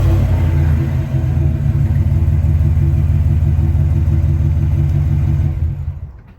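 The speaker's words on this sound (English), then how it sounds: "the V8 does sound pretty nice" A 2022 GMC Yukon XL SLT's 5.3-liter V8 hums with a steady, deep, loud rumble close by, holding an even idle-like drone before fading away at the end.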